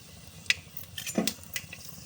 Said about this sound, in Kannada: ಆಯಿಲ್ ಹಾಕಿದ್ನಲ್ಲ ಅದು ಕಾದಿದೆ ಇವಾಗ ಇದನ್ನು ಸ್ಪೈಸಸ್ನ ಹಾಕ್ಬಿಡೋಣ